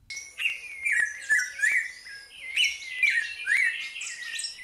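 Birds chirp and sing close by in quick, bright phrases, several overlapping calls repeating throughout against a quiet background.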